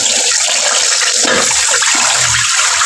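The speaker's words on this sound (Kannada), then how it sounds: "ಈ ಥರ ನೀರು ಹಾಕ್ಕೊಂಡು ತೊಳ್ಕೊಂಡ್ಬಿಡ್ತೀನಿ ಅಷ್ಟೇ" Water is poured loudly and continuously over flattened rice (avalakki) to rinse it for a North Karnataka hotel-style uppittu, a close, steady gushing splash with no pause.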